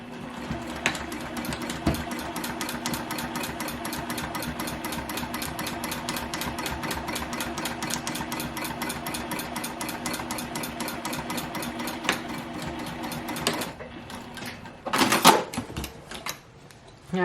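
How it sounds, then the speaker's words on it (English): A sewing machine stitches a placemat into a pouch with a fast, even, close mechanical clatter that runs steadily, then stops, leaving a few knocks and handling sounds at the end. "I'm going to take this to the sewing machine right now and I'm going to stitch right on top of that line"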